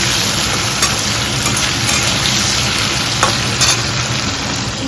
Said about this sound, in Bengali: এবার আমি সর্ষের তেলের মধ্যে কাঁচা লঙ্কা দিয়ে আলুগুলো ছেড়ে দিচ্ছি।